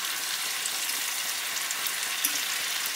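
Meat for a tajine browning in a hot pan, a loud, dense, unbroken sizzle heard up close, with no talking.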